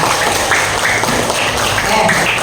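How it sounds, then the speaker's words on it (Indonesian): A class of students clapping together on cue, a dense sustained patter of hands at close range with voices mixed in. "Ceria, tepuk tangan semuanya."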